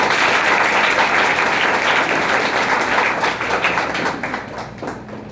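An audience at a prize distribution ceremony for toppers at an English coaching class applauds steadily, dense close clapping that holds loud for several seconds, then thins and fades toward the end.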